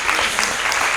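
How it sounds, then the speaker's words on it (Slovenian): Students in a school hall give a short burst of dense, even applause, many hands clapping at once, close and fairly loud throughout, with no talk. "En velik aplavz za Tajo"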